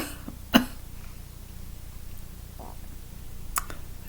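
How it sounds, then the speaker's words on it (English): A single sharp cough from a woman at a mediumship gathering, sudden and close, followed by a softer throat sound and a faint second cough over a quiet room hum. "makes me cough"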